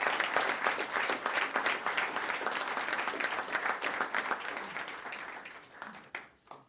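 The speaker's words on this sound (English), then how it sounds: "Let's have a nice round of applause for our Students of the Year." A school board meeting audience gives a sustained round of applause for the Students of the Year, dense and steady clapping throughout before it thins out and fades at the end.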